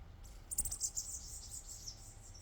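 A small bird chirps close by: a quick burst of high, thin tweets that flutter briefly and trail off, faint against quiet background hiss.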